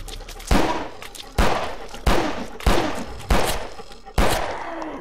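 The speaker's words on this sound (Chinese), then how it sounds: "我就开枪就对了" Six loud, evenly spaced gunshots in the horror game FilthBreed, each a sharp blast with a decaying echo, fired roughly every second.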